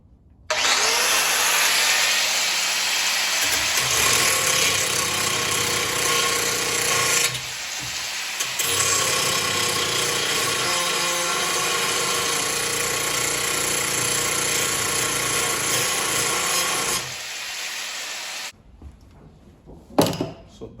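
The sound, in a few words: grinder grinding down metal for tail light install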